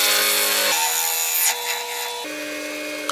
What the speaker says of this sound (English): Alright, we'll barrel trim from here.